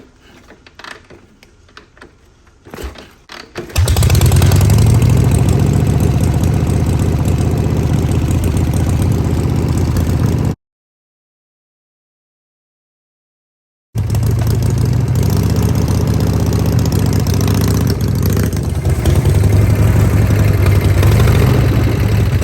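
A Harley chopper engine with a four-speed clutch starts up after a few seconds of clatter and idles loud and close with a steady throb, cut briefly by silence before running again.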